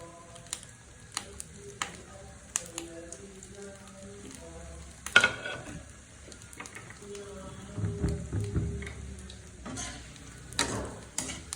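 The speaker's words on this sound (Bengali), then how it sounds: "তেলটা গরম হয়ে গেছে, এখন হচ্ছে আমি পাউরুটির টুকরোগুলা দিয়ে দিচ্ছি" Bread pieces fry in hot oil with sparse crackling pops and light sizzling, punctuated by stirring knocks and a louder burst of spattering in the middle.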